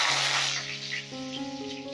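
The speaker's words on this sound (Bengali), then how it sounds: "এইবারে ওই তেলেই দিয়ে দিচ্ছি ফোড়ন ফোড়নে দিচ্ছি এলাচ দারচিনি শুকনো লঙ্কা তেজপাতার গোটা দিয়ে" Whole cardamom, cinnamon, dried red chillies and bay leaves hit hot oil with a bright hissing sizzle that starts strong and quickly fades, while sustained musical tones play underneath.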